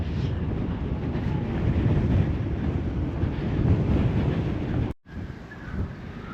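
Strong wind on a beach buffets the microphone in a continuous loud roar, broken by a brief dropout near the end.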